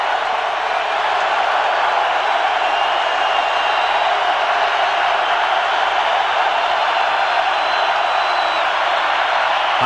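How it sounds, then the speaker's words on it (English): A college football stadium crowd roars loud and unbroken on 3rd and 10 as Oklahoma trails Colorado in 1999, a dense, even wall of noise from thousands of fans lasting the whole stretch. "now listen to the crowd as it's 3rd and 10 for the Sooners"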